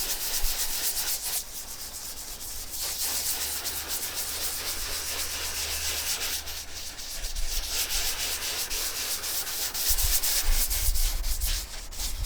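A plastic car headlight is polished by hand with a wet woolen pad and polishing paste, making a steady, close rubbing and scrubbing that swells and fades in strokes, with no voices.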